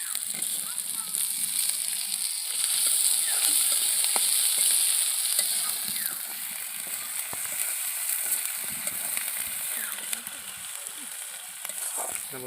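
Tomatoes fry in a hot pan for raw-banana kofta curry, giving a steady, bright sizzle that holds close and loud throughout, with occasional faint stirring scrapes beneath.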